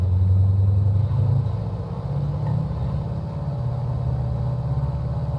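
A light aircraft engine in Microsoft Flight Simulator runs at full throttle for takeoff, a loud steady low drone and rumble that holds constant and close throughout.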